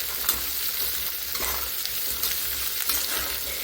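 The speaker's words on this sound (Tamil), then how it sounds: "ஒரு கொத்து கருவேப்பிலையோடு அப்படியே சேர்த்துக்கலாம். இப்போ நல்லா கலந்து விட்டு வதக்கி விட்டுக்கலாம்." Dried red chillies and curry leaves are sautéed in a pan, with a steady crackling sizzle heard up close and a few light scraping stirs.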